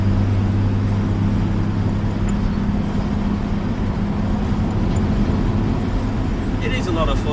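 A 1958 GMC Apache fleetside pickup truck drives along with a steady, close engine drone and road rumble beneath continuous talk from the driver.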